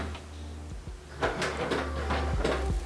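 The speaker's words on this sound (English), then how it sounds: "this armed door that locks automatically when closed" An armored security door at a luxury beach house near Forte dei Marmi swings shut and locks itself, giving a series of close mechanical clunks and metallic latch clicks over a low background hum.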